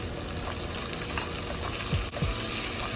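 Onions and tomatoes sizzle steadily in a hot pan while sinigang is being cooked. The frying hiss fills the whole clip, with a few faint stirring scrapes and no voices.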